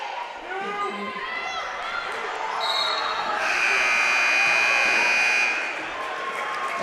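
Buzzer sounding loudly for about two seconds during a girls high school basketball game in a gym, over steady crowd noise, squeaking shoes and an announcer talking.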